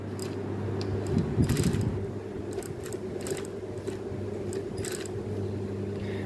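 A sewing machine stitching a stand-up collar runs in a steady, fairly quiet mechanical hum with a faint repetitive ticking rhythm and occasional small clicks, and no talking.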